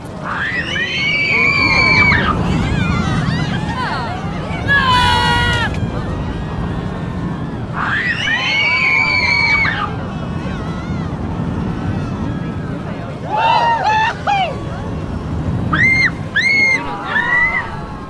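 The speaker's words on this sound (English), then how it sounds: "it's so much more realistic hearing those screams from the teens, and yeah, the little woohoos and yells and cries all adds to the value" Roller coaster riders screaming and yelling in the Planet Coaster 2 video game: loud bursts of high shrieks, woohoos and cries from several teens come in waves over a rushing, roaring ride noise.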